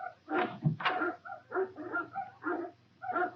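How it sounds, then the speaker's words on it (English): Hounds bark and yip in a rapid, uneven series of loud, close calls, several dogs overlapping in a 1940 film scene with no speech over them. "Quiet those hounds."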